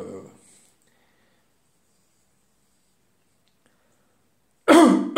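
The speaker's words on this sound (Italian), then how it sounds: "Scusate, ho dovuto schiarire la voce." A person clears their throat once, loudly and close, then a long silence, followed by a second throaty vocal burst at the end.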